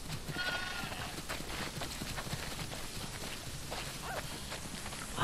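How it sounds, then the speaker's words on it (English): Sheep bleat in The Last of Us Part 2 as a flock mills about, faint bleats rising over soft shuffling hooves and footsteps, all fairly quiet and distant. "Wow, that's a lot of sheep."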